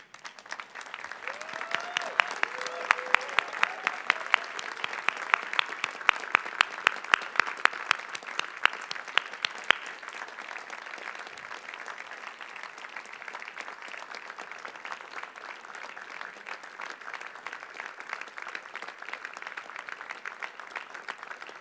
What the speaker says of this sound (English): Graduates, could you stand and give your supporters a hearty round of applause?